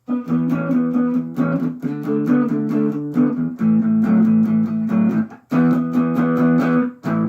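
A distorted electric guitar plays a minor pentatonic bluesy riff of chugging low notes and quick runs, loud and steady with brief gaps between phrases.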